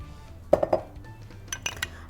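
Chicken in soy sauce stirred in a pan, a spoon clinking against metal in three quick strikes and then another brief cluster of clinks, close and fairly crisp over a low background.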